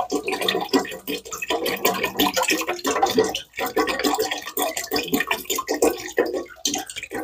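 Apple cider vinegar pours into a pot for sweet pickle relish, a continuous splashing liquid stream that briefly breaks off midway and then resumes.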